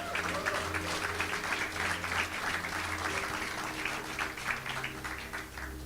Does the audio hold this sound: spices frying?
no